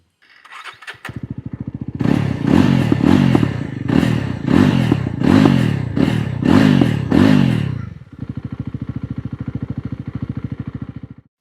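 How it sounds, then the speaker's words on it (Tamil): A 2025 Yezdi Roadster motorcycle exhaust idles with a deep, throaty beat, then revs sharply several times in quick succession before settling back to a loping idle. "இதோட எக்ஸாஸ்ட் நோட் தான் எப்படி இருக்குது அப்படிங்கிறத நம்ம பார்க்கலாம்"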